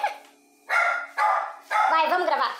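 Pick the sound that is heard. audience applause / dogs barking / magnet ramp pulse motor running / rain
dogs barking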